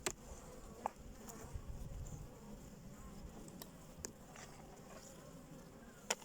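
Honeybees buzz in a steady, close drone around a hive colony that has moved on to brood, the hum continuous and unbroken, with no talking.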